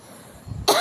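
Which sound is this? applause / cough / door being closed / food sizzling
cough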